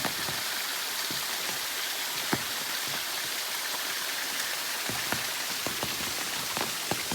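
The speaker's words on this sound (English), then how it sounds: "It's raining again." Rain falls steadily on a forest trail on the Mahoosuc Notch and Mahoosuc Arm route in wet, rocky country, a close dense hiss with scattered sharper drops tapping nearby, no voices.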